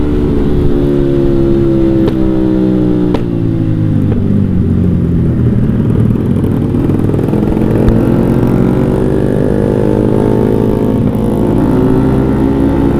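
Motorcycle engine fitted with a JB159 trioval exhaust, running steadily and loud throughout with a continuous low droning note and slight pitch shifts, close to the listener.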